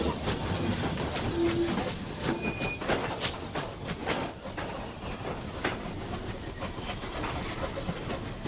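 A train rattles along with steady clickety-clack and hiss, loud and continuous, carrying a newly finished gun barrel from the English Steel Corporation foundry in Sheffield during the early 1940s.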